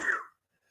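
A man's cough during a live talk show broadcast, a single loud, harsh burst up close lasting about a third of a second, then silence with only faint room noise.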